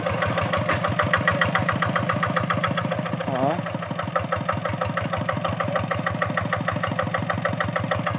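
Small G600 hand tractor ploughing a very narrow field, its engine chugging in a fast, steady, loud, close beat, with a brief voice partway through.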